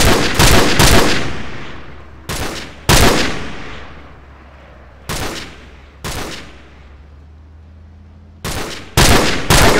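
Automatic gunfire in Call of Duty Modern Warfare: several loud, close bursts of rapid shots, each ringing out and decaying before the next, with short pauses between volleys.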